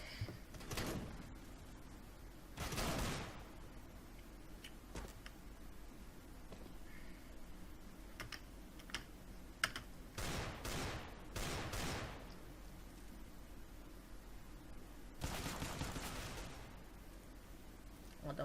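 Gunfire rings out in the video game CS:GO, with short scattered bursts of shots and a few longer volleys, fairly quiet against a faint background.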